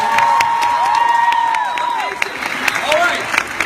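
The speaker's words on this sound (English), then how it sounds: "Give yourselves a big round of applause" An audience at a Miraculous Ladybug panel at San Diego Comic-Con claps and cheers loudly, with high excited shouts and squeals rising over steady applause.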